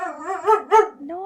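A dog gives a short run of close, loud howling barks with rising and falling pitch, heard on its own.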